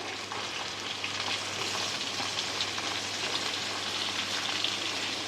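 Chopped onions fry in a pan with minced ginger and garlic for a home-cooked chicken khichdi, giving a steady, close, even sizzle with faint stirring and no voices.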